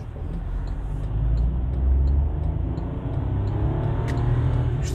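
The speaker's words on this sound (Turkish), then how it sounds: "Biraz daha arabayı zorlayarak kalkalım. Yani devirli kalkalım demek istiyorum. Orada bir sesini duyun." A 2019 Kia Picanto 1.0 with automatic transmission pulls away hard from a standstill, its small engine droning steadily at close range with a low rumble that rises slightly in strength, no talk over it.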